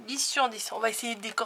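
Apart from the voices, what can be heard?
None of the usual background noises is heard.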